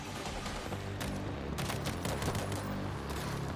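Gunfire in the zombie shooter video game World War Z: Aftermath comes as rapid, sharp bursts and volleys of automatic shots, loud and close, crackling on and off throughout without speech.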